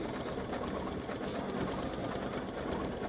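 An embroidery machine stitches a patriotic applique design of about 28,876 stitches, running as a steady, continuous mechanical whir with a fast rapid rhythm at close range and no talking over it.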